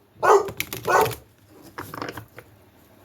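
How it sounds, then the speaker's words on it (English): A pet dog barks indoors in a few sharp bursts near the start, then quieter, fainter yelps follow after a pause. "My dog is barking."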